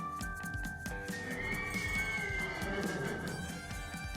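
A horse, a wild white mustang stallion, neighs in a drawn-out, shrill whinny that rises and wavers, preceded and followed by snorting breaths and low rustling, fairly close and clear.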